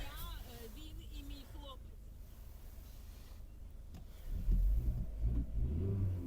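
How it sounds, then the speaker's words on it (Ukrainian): A 2009 Skoda Fabia engine starts after a stretch of someone talking, then settles into a low, steady idle rumble close by. "Давайте запустимо двигун. Двигун запускається чудово."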